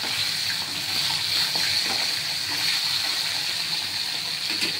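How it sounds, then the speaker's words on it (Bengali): Pomfret fish frying in a pan for a Bengali jhal, giving a steady, fairly loud broadband sizzle that continues without break and without talk. "এবার আরেকটা মাছ আমি আবার ভাজা করব"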